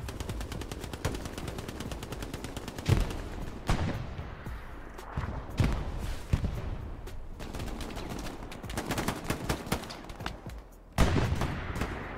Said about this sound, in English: Five guns shooting at one object, one player.